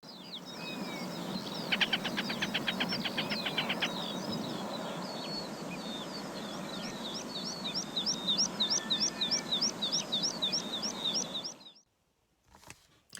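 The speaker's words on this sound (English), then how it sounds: "he'll often chatter a little bit like a chicken as he does this" Hen harrier breeding calls ring out repeatedly: a rapid chicken-like chattering burst early on, then a long series of sharp, high chirps over a steady rushing background near an upland river.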